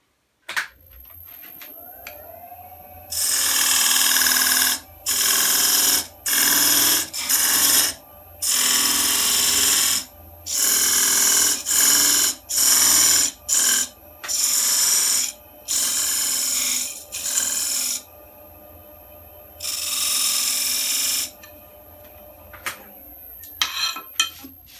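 A woodturning lathe cuts a tenon on a wooden box, heard as a series of about a dozen loud, hissing scraping bursts of tool on spinning wood. Short pauses separate the bursts over a faint motor whine.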